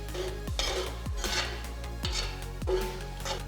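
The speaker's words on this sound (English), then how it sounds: "Mix it well to make sure the potatoes are fully coated." Spiced potatoes with garlic spice powder stirred in a pan, a spoon knocking and scraping against the metal in a few distinct strokes roughly once a second over a low background hum.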